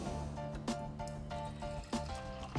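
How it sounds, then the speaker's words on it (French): Water pours steadily from a kitchen water dispenser into a container, a soft continuous trickle close by with a few light clicks, and no voices. "On y retrouve un distributeur à eau."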